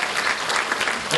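Congregation in a church applauding steadily, a dense wash of many hands clapping together through the whole short moment.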